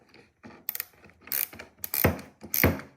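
Chain being tightened on a Stihl MS180 chainsaw, a series of close, quiet ratcheting and mechanical clicks in irregular bursts, growing slightly louder toward the end.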